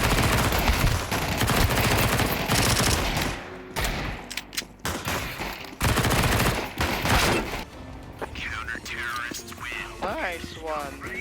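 Counter-Strike 2 gunfire: rapid loud bursts of automatic shots in the first half, then scattered shots among quieter passages, with players talking and shouting over the action.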